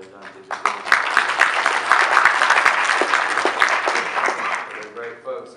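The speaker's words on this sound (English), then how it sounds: "We need to give folks from Georgia Tech a round of applause for all they've done." A summit audience breaks into a full round of applause, dense clapping that starts after a brief quiet moment and holds steady and loud before tapering off at the end.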